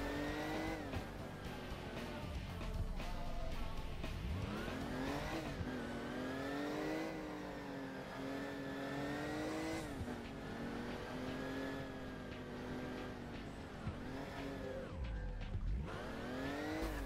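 A Porsche engine in the Crash Time driving game revs and strains continuously, its pitch climbing and dipping with gear changes and boost, loud and close with occasional tire noise.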